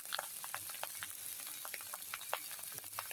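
Egg pasta being stirred in a frying pan, with soft intermittent scraping and light sizzle ticks repeating every fraction of a second over a steady hiss, close and fairly quiet, no talking.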